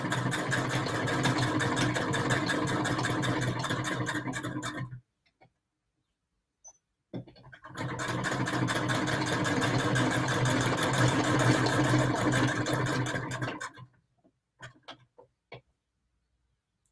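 A sewing machine stitching patchwork at home, running close and steady in two long stretches separated by a pause, followed by a few short stitching bursts.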